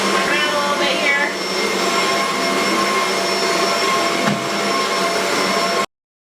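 Vacuum cleaner with its brush roller switched on, running over carpet: a loud, steady motor whine and airflow roar that holds unbroken for about six seconds, then cuts off abruptly.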